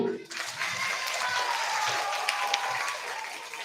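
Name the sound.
applause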